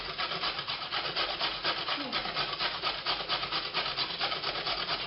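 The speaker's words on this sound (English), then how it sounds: "So just grating the carrot straight onto the cutting board." Carrot is rubbed against the large round holes of a box grater straight onto a cutting board, making continuous rhythmic rasping strokes that are close and steady throughout.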